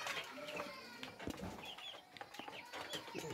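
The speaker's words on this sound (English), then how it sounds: "These are the birds." Chickens clucking and fussing while they feed, faint and scattered with a few brief wing flaps, in a quiet coop with no voices.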